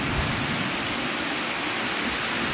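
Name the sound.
rain falling in Malaysia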